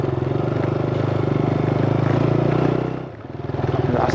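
Motorcycle ridden on a rough mountain road near Muktinath, Nepal: a steady, loud engine drone with rhythmic pulsing throughout, dipping briefly near the end before picking back up, with no talking.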